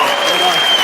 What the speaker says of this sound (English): And the whole crowd is just cheering at him.